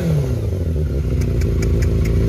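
A 400cc Yamaha FZR 400 motorcycle engine running close by, with a loud, steady rumble and a brief rise in pitch early on, continuous and alone with no talking.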